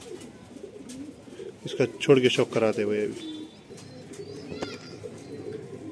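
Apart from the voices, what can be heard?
imported pigeons cooing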